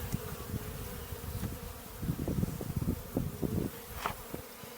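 A small fall swarm cluster of honey bees buzzes continuously and close by as it is moved from one hive box to another, the drone swelling and easing with scattered louder passes.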